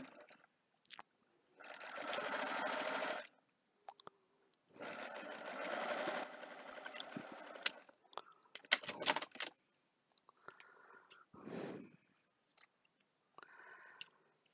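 Two bursts of sewing machine stitching, each a couple of seconds of rapid whirring, then scattered clicks, snips and handling noises in a quiet room.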